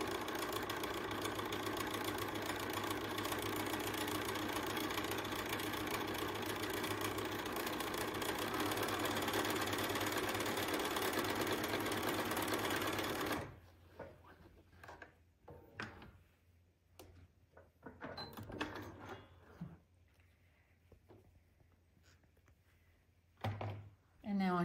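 A sewing machine with a quarter-inch foot stitches fabric strips for quilt blocks, a steady loud mechanical whir running for about thirteen seconds before stopping, followed by quiet handling noises and light clicks.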